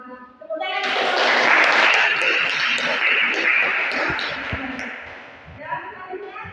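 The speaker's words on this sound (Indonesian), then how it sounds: "Tepuk tangan" A classroom audience breaks into sustained applause after a presentation, a dense wash of clapping that swells quickly, holds steady for several seconds, then tapers off, with voices mixed in.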